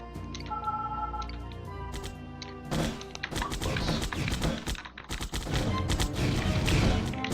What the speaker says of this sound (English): I'm going to use my smart cannon, my howitzer